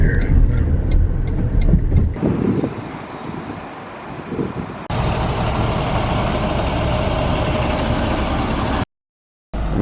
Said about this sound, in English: That's the truck they have.